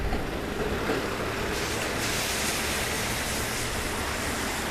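A trolleybus pulling away from a street stop, heard as a steady, broad rumble of motor and road noise that holds at a fairly constant level, with no voices.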